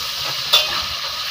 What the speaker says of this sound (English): we're also frying it so that it won't scatter too much in the stew